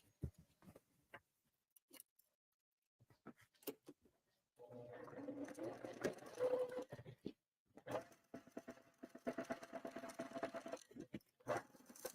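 A sewing machine stitching the bottom seam of a tote bag lining, quiet and close: scattered small clicks and handling taps, then a few bursts of motor whirring, each running a few seconds with short pauses between.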